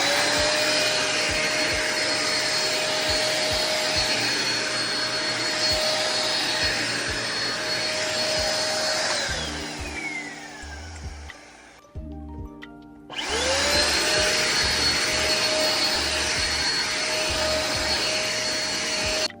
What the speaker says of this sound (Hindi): तो अभी मैं वैक्यूम करती हूँ।